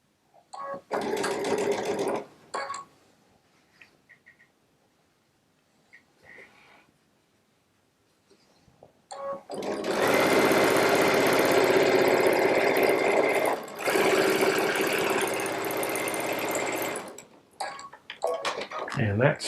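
A Baby Lock Solaris sewing machine piecing quilt block seams with a 1/4-inch piecing foot, running in a short early burst, then pausing with faint handling sounds, then stitching steadily and loudly in long continuous runs, with a brief break.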